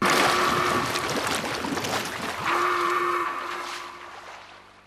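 Water sounds in the Aladdin video game: a boat with no passengers glides over a rushing, hissing stream with faint sustained tones, fading out at the end.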